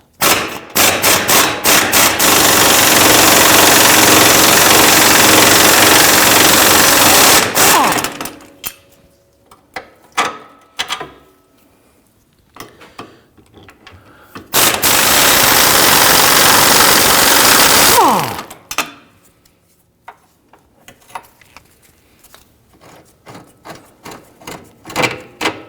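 A wrench on a 1/2-inch drive extension loosens 18mm rear upper control arm bolts on a 2010-2019 Ford Taurus. Two long, loud, harsh bursts of tool noise are separated by scattered clicks and metallic clanks.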